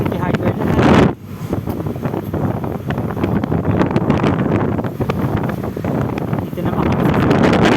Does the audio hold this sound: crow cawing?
no